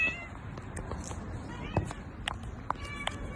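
Stray cats in Casablanca meowing while being fed, several short high meows scattered over a busy street background, close to the microphone, with a person speaking softly between them.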